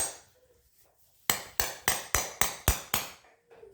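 Plastic parts of a Little Tikes Push and Ride toy being hammered together on carpet: seven sharp, evenly spaced knocks in quick succession, loud and close, after a quiet lead-in.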